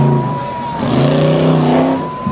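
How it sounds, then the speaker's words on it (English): A GMC Yukon monster truck with a V8 engine, painted in Iron Man tribute colours, runs a course at a monster truck show, its engine droning loud and steady with a rising rev and some shifting pitch, no talk. "You can hear the V8 working"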